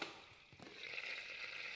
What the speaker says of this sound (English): sizzling away there, look at that.